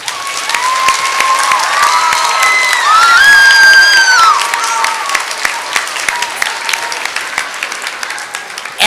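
Crowd at a Veterans Day school assembly breaks into sustained applause and cheering, dense clapping with children's shouts and whoops rising over it, loud and close throughout.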